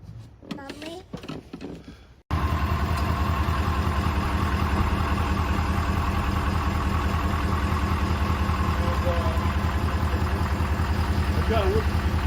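A car engine starts after someone speaks briefly, then idles steadily and loudly with an even, continuous mechanical hum.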